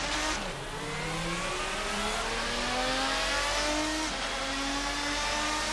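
Race cars roar off the start at Mugello in the Assetto Corsa racing game. A dense pack of engines revs and climbs steadily through the gears, loud and continuous, with no voices.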